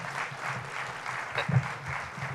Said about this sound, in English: Another round of applause for Colleen Dillaway.